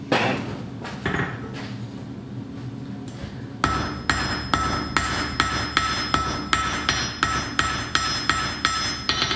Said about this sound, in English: now I will flatten out the ring so it's flat and wide. I can take a heavier hammer.